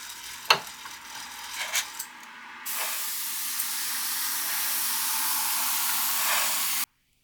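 Airbrush spraying dark armour acrylic paint along the tracks of a model Sherman tank: a few short bursts, then a steady close hiss that runs for several seconds before cutting off abruptly.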